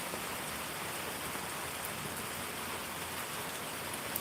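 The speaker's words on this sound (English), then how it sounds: "relaxing, listening to the rain" Steady rain falls outdoors in a dense, even hiss that stays constant and fairly faint throughout, with no voices.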